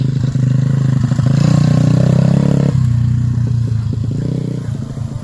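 Motocross dirt bikes riding on a dirt track, with a loud, steady engine drone close by that rises and dips, rough clattering throughout and a brief voice.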